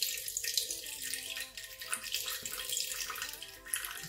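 A potash solution for Nigerian abacha is slowly decanted and poured, making a continuous close trickling, splashing liquid sound that runs throughout with small bursts of burbling.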